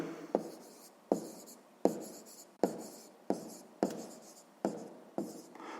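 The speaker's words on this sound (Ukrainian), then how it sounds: "Ну що ж, записуємо тоді відповідь" A pen writes down the answer to a sixth-grade maths exercise in eight sharp, evenly spaced strokes, each tap trailing off into a brief scratch, close and distinct with no talking.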